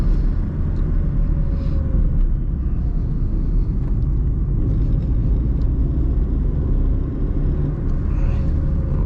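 A 1990 Mazda MX-3 driving along in third gear, its engine giving a steady, loud low rumble with road noise throughout and no downshifts.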